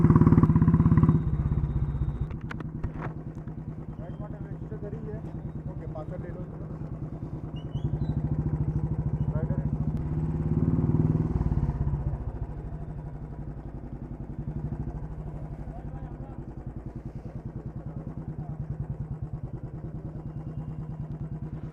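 Many motorcycles idle and rumble at a large group bike gathering on Independence Day, a steady loud engine drone with occasional revs and clatter throughout, no talking.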